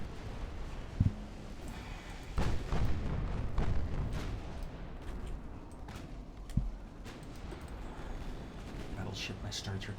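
Naval gunfire from battleships in the game Ultimate Admiral Dreadnoughts: a few heavy booming shots, one near the start, a cluster around the middle and another later, over continuous low rumbling battle ambience, with a voice talking throughout.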